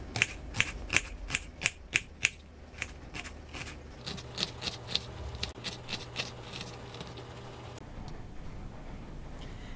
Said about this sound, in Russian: Лук нарезаем мелкими кубиками.